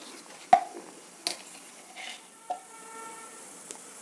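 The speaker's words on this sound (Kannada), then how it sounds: "ಇದು ಎಣ್ಣೆ ಬಿಸಿಯಾಗಿದೆ ಸಾಸಿವೆ ಹಾಕ್ತಾಯಿದ್ದೀನಿ" Mustard seeds with chana dal and urad dal hit hot oil, giving scattered sharp pops and crackles over a faint sizzle, close and fairly quiet, with no talking.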